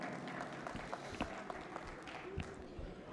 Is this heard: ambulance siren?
no